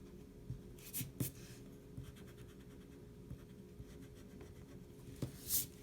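Pencil lines being erased on paper while drawing one-point perspective boxes, heard as soft scratchy rubbing strokes with a few sharper scrapes, close and quiet, with no talking.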